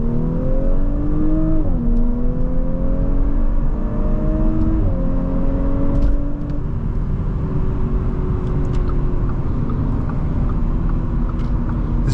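A 2022 Audi S5 3.0T Sportback accelerates hard at full throttle on a freeway, its engine note climbing steadily through a couple of gear shifts, heard from inside the cabin before fading into road and wind noise.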